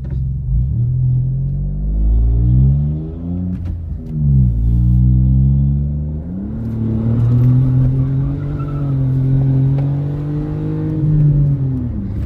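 A Hyundai HB20 1.0 turbo fitted with a stainless steel exhaust diffuser revs and accelerates up close, its engine note climbing through repeated rises and dips into a loud, sustained drone.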